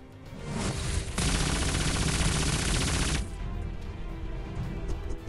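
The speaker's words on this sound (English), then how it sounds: "let's try this Gatling gun again." A Gatling gun in the DC Legends video game fires as one loud, dense burst of rapid rounds lasting about two seconds. It fades into a softer rumbling tail, with no voices.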